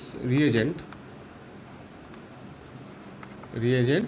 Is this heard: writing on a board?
yes